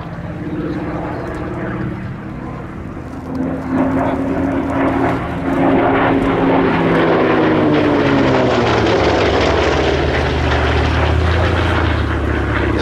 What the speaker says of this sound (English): You will not see a warbird entering an air display doing a full vertical roll pretty much anywhere else